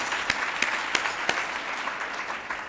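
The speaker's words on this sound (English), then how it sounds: "Another round of applause for Gina." Applause from an award ceremony audience honoring a climate leader, a steady wash of clapping with a few sharper individual claps standing out, moderately loud and continuous throughout.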